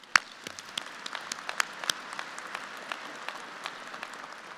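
Light, sparse applause from an audience at a university graduate school commencement ceremony, a few separate claps ringing out in a large hall, faint and distant after one louder opening clap.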